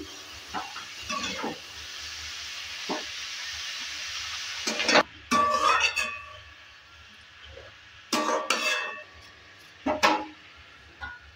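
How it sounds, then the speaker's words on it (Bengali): Chopped potato leaves stirred in a frying pan, with a low sizzle under scattered scraping and clattering strokes of the spatula in short bursts, fairly quiet and with no talking. "এবার দিয়ে দিচ্ছি কেটে রাখা শাক। শাকটা দেওয়ার পরও নেড়ে চেড়ে দিচ্ছি।"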